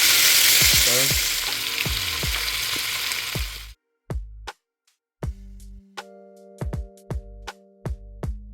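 Roughly chopped onions, peppers and carrots frying in a pot for Jamaican-style stewed oxtail, loud sizzle with stirring clanks that cuts off, followed by sharp spoon knocks and tapping on the pot.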